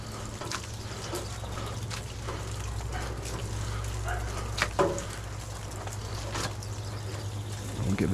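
A water fed pole rinses an exterior window, a continuous rushing spray of water with faint splashes and a few knocks, heard over a steady low hum.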